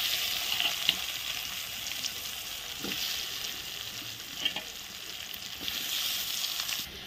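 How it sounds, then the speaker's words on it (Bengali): Potatoes frying in oil with dried red chilli and cumin, a steady close sizzle with occasional soft stirring clicks and bubbling pops, no talking. "এখন দিয়ে দিচ্ছি আলুগুলো।"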